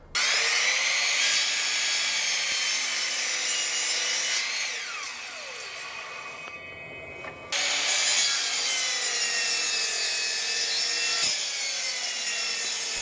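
A miter saw spins up and bites through wood with a loud, high whine, dips briefly as the cut ends, then roars again for a second steady pass, close with no talk.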